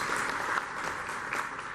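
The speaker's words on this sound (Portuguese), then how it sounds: "o Rômulo, também uma salva de palmas" A room of people clapping, a steady patter of applause at moderate volume with a few sharper claps standing out.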